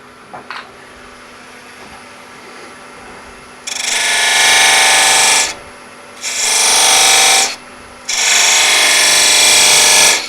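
A wood lathe cutting a mortise on a between-centres turning, loud harsh bursts of tool-on-wood rasp in three long passes separated by short pauses, close to the machine.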